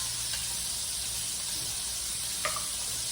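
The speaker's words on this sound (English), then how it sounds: "we're gonna take our pot and add the garlic to it" Garlic sizzles softly in a hot pot, a steady faint hiss with no break, and one small clink near the end.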